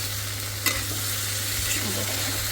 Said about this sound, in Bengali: আলু বেগুন টমেটো এগুলো কষাই নিতেছি